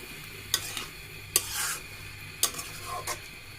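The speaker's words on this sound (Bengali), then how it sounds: "আবার একটু ভালো করে এটাকে ভেজে নেব।" A taki fish mash (bhorta) sizzles and fries in a pan while a spatula stirs and scrapes it, giving several sharp clinking scrapes over a steady low frying hiss, close by with no talking.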